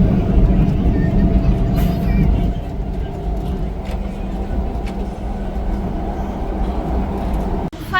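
A Pune metro train ride gives a loud, continuous rumble and rolling hum, steady throughout with a brief dip near the end, while people talk over it.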